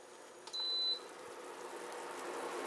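Tatung TICT induction cooktop, 1500 watts, switched off and on: a single short electronic beep, clear and close, followed by a low steady hiss of the unit.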